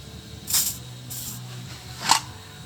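Two short hissing sprays of Mercury corrosion guard lubricant are squirted into a distributor cap, spaced about a second and a half apart, close and fairly quiet, with a brief faint mechanical sound between them.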